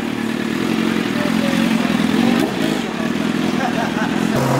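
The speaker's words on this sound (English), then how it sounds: "My boy, the CBR 1000." A Honda CBR 1000 motorcycle idles and revs at a small car meet, its steady engine drone close and loud with a brief rising rev, under background crowd noise and talk.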